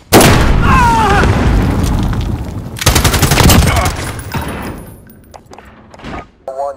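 Loud Call of Duty: Modern Warfare combat: heavy booming blasts and bursts of rapid gunfire fill the first seconds, a second volley follows, then the firing thins into scattered shots.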